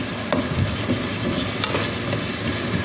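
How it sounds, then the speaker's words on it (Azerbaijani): Meat and vegetables frying in a pan, a steady close sizzle with scraping and clinking strokes of stirring at irregular intervals, no talking over it. "Yavaş-yavaş ətlərini də atıb qovuracam."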